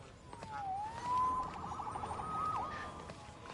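A police car siren in a Marvel Spider-Man game wails at moderate distance, its tone sweeping up and down over steady city background noise.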